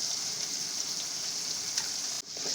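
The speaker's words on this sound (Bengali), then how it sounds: "সবগুলো সবজি একটু ভেজে নেব।" Cut vegetables and boiled raw jackfruit fry in oil in a pan, giving a steady, fairly quiet hiss and sizzle that dips briefly near the end.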